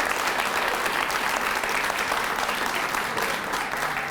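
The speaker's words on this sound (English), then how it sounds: "So I think a round of applause in store for everyone up here." A room full of people at a community potluck gives a round of applause: dense, steady clapping that holds at the same level for several seconds.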